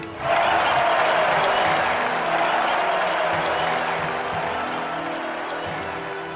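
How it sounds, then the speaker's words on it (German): In the video game Evoland II, a crowd breaks into steady, broad applause to welcome Emperor Lothair, a dense wash of clapping that holds evenly and slowly eases off, with no talking. "begrüßt mit einer Runde Applaus"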